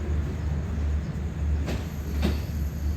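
Express train no. 83 departs Surat Thani, a steady low rumble of railcars rolling with a couple of brief faint clanks over the hum, heard from inside a second-class air-conditioned coach.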